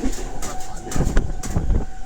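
A fast Mumbai train rumbles past close by with rhythmic clattering of wheels over rail joints, loud and continuous, with faint voices beneath.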